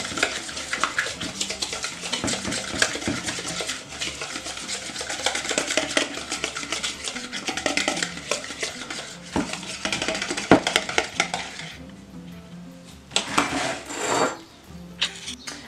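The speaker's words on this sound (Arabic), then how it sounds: "وزدنا له الحليب البودره للفرماج اللي عندنا وغادي نخلطو الكل مزيان" Cream cheese and milk powder stirred together in a bowl, with a utensil scraping and clinking against the sides in steady, close rasping strokes that pause briefly near the end.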